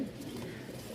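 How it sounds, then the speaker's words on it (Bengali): A pair of Indian Kaldam pigeons coos in a short, low, murmuring burst close by, set against a steady background hum. "কবুতর জোড়াটা একদম ফ্রেশ।"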